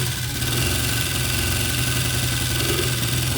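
A Honda motorcycle engine idles steadily and continuously at close range, a low rumbling drone with a constant throb and no voices.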